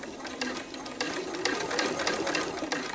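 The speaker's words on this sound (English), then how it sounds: "I'm feeding this folded edge of the placemat under my presser foot" A sewing machine stitches along the folded edge of a fabric placemat fed under the presser foot, held flat against the machine bed with a tool; a steady close mechanical whir with rapid needle clatter runs throughout, no talking.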